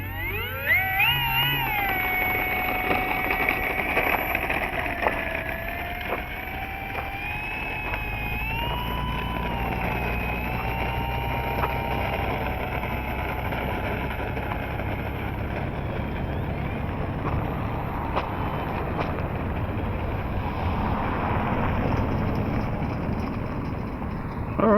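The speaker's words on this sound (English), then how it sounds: "let's give her some up elevator and see how she taxis out" An Arrows Bigfoot electric RC plane taxis across the ground, its motor whine rising in pitch at the start, then holding steady with small wavers over a rough rolling rumble, close and continuous.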